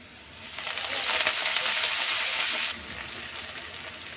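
Chopped greens are added to hot oil with onion, garlic and chillies, setting off a loud, steady sizzle that crackles up strongly, then drops back to a quieter frying hiss, with no voices.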